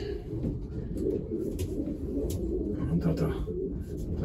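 Pigeons coo steadily in a loft, soft low rolling calls repeating over a dense murmur of birds, with one being a 2012 breeding pigeon in good condition.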